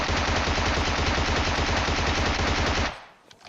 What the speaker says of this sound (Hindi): गोली चलाता हूँ, डैमेज देता हूँ